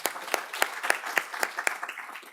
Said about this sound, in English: can you please stand for a round of applause?